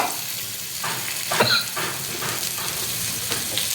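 Vegetables including drumsticks, bottle gourd, taro and small brinjals sizzle steadily in a pan as jaggery goes in, a continuous close frying hiss with a few soft stirring scrapes.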